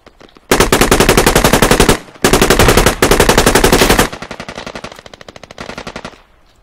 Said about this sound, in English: I can hear their guns going off